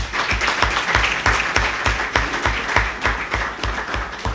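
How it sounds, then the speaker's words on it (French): An audience applauds steadily at a scholarship award ceremony where bursaries are handed to pupils and students, a dense, sustained patter of many hands clapping filling the room. "je vous prie d'applaudir pour le CAEB et pour les dirigeants du CAEB"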